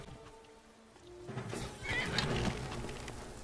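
A horse in the Skyrim video game lets out a loud, drawn-out neigh amid clip-clopping hooves and game ambience, rising after a quiet start.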